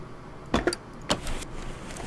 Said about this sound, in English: Ratchet, ratchet, ratchet.